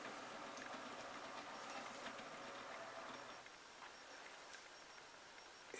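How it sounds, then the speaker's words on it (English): A 3-car diesel multiple unit train rumbles at a station, a steady distant engine and rail noise that fades slightly partway through, with faint clicks and no talk. "right on cue we have that very train"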